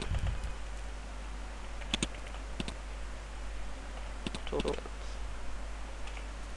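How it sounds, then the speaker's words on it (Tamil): Someone types on a computer keyboard while writing in Notepad, producing faint scattered key clicks and short clustered taps over a steady low hum, quiet and close. "ஜஸ்ட் நான் டைப் பண்ணுறேன்"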